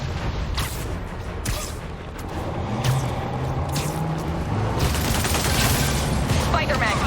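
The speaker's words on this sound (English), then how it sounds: "Whoa, why is everyone shooting rockets all of a sudden?" In Marvel's Spider-Man Remastered, soldiers fire rockets and guns in a steady, dense barrage of shots and bangs, with voices talking over it throughout.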